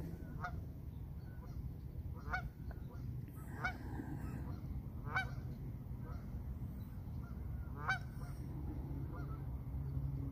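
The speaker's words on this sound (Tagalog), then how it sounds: "Yan na, naglanding na yung mga bibe." Ducks that have just landed on the water at a fishing spot honk in short, scattered calls, faint and fairly distant, over a low steady background rumble.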